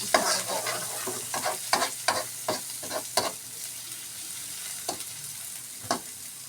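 Onions sautéing in a pan for creamy mushroom chicken, a steady sizzle with a series of sharp scraping stir strokes that are busy at first, then thin out toward the end.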